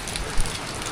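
Heavy rain pouring down outdoors at a garden plot during a cherry radish harvest, a dense steady hiss across the whole moment with one brief louder thump, no voices.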